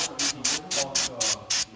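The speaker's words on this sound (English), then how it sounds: "So we're going to start off by spraying brake cleaner." Brake cleaner sprayed onto a brake caliper in a series of about seven short, sharp hissing bursts, evenly paced and close to the mic.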